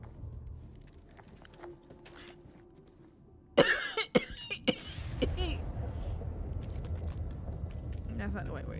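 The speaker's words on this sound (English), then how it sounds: "Sorry, I did not mean to cough all up in y'all's ear." A single loud, close cough bursts out during a House of Ashes horror game session, followed by a few sharper throat sounds, then low game ambience.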